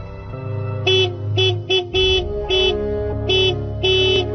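A car horn honks repeatedly in short, uneven blasts, loud and close, over a low engine hum.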